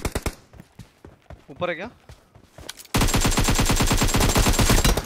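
Gunfire in PUBG, with scattered single shots and short bursts under a brief spoken exchange, then sustained, loud, rapid automatic fire for the final two seconds.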